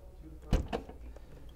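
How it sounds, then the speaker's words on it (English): A Lincoln Continental Black Label coach door closes electronically with a soft muffled thud and a short mechanical whir, quiet and close, with faint background noise. "Electronic opening, or soft close as they call it."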